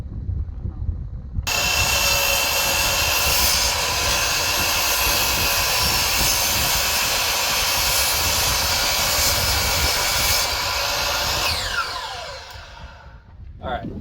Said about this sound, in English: this is a special Trex blade he put on here, because Trex is much harder on these saw blades than wood is